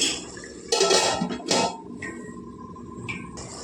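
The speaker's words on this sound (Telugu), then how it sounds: "ఇప్పుడు మూత పెట్టేసుకొని వండుకుందామండి" A lid set onto a cooking pot of ridge gourd curry, heard as two close metallic clanks and a scrape, followed by a lighter clink over a low kitchen hum.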